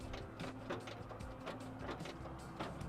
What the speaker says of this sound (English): it's come equipped with those famous pop-up headlights that you see in movies and pictures all the time